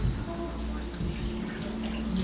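Beef broth poured from a container onto meat in a stew pot, a continuous watery splashing and gurgling pour lasting a couple of seconds, close and fairly loud.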